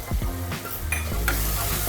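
Tomato masala with tadka masala and Kashmiri red chili powder frying in oil for chhole, a steady close sizzle with the scrape of stirring, alone without talk.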